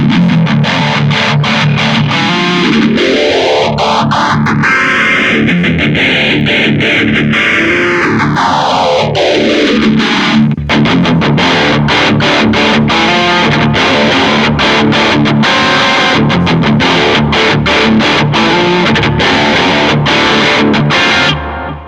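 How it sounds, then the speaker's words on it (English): A loud distorted electric guitar through a Vox Valvetronix VT120+ amp plays with a phaser sweep rising and falling through the tone, then continues with choppy, driving strummed chords. "Here's a slight phaser patch with distortion."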